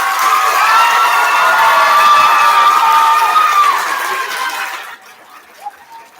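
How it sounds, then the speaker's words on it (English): A gym full of elementary school students gives a loud, sustained round of cheering, shouting and applause for three young men at a student recognition ceremony, holding steady for several seconds and then fading quickly to quiet. "we have a really loud round of applause for these 3 young men"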